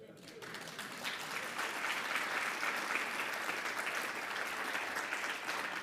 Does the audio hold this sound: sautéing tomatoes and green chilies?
no